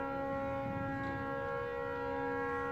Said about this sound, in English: This siren thing has been going off almost non-stop,